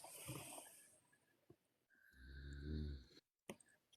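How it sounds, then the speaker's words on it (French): A person snoring faintly during a quiet indoor gathering, one long rumbling inhale-like snore in the middle with softer breathy noises around it. "Je crois qu'il y en a une qui ronfle."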